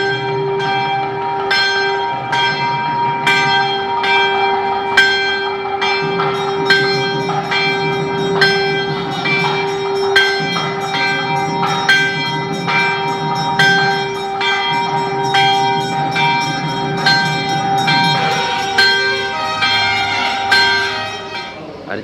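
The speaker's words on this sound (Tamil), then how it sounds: "அதான் இந்த கோயில் மணி பாருங்க" A Hindu temple bell rings in rapid, steady strokes during a Navagraha puja at a Murugan temple in Malaysia, bright metallic clangs repeating close and loud over a low murmur of voices and a sustained tone.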